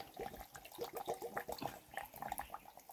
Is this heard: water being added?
yes